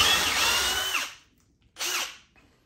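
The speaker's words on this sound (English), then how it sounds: "So I got my pocket holes drilled" Two close bursts of a power drill boring pocket holes into wood, a long whine that winds down, a pause, then a shorter second spin.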